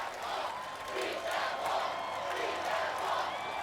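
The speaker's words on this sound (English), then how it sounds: "And the crowd is loving it" A crowd cheers and roars at an American Sasuke obstacle course competition, a steady distant wash of voices and whoops from a large audience sustained throughout without clear breaks.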